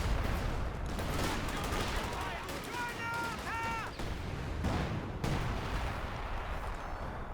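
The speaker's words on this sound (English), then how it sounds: "taking a barrage straight into the front of the base of VindicareX" Artillery barrage and gunfire from the video game Company of Heroes 2 roll on as a dense, continuous rumble with crackling shots and blasts, while someone speaks over the battle throughout.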